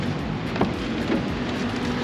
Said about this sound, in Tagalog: Ayan, sakto, umuulan.